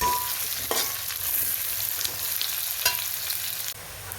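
Onions, shallots and curry leaves fry in hot oil for a Kerala-style beef curry, giving a steady crackling sizzle broken by a few stirring scrapes.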